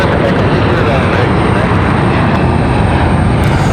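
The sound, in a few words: Delta CRJ jet taking off at Raleigh Durham airport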